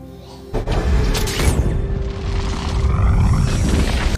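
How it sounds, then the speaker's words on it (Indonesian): A gas cylinder blows up in a film scene, a sudden loud boom followed by a sustained roaring, rumbling blast and debris noise that fills the rest of the moment. "meledakkan tabung gas di sana yang membuat si penculik itu mati terbakar"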